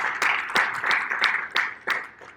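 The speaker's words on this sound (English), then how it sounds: "I'll have a nice round of applause for" Audience at a 2020 candidates forum applauding after the candidates' answers, a steady wash of clapping with several sharper bursts, fairly close and with no talk over it.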